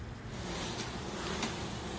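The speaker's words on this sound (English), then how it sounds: "a lot of bees here." A swarm of honey bees buzzes steadily nearby as it is shaken from a swarm, a dense continuous hum with wind-like noise and no talking.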